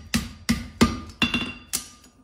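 Blacksmith's hammer striking a horseshoe on an anvil, five close, ringing metallic blows in an uneven rhythm about half a second apart, the last fading out, no speech.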